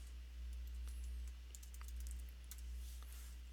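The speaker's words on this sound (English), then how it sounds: "I'll go ahead and type it in here" Quick, light clicks of typing on a computer keyboard, irregular and faint, over a steady low hum in a quiet room.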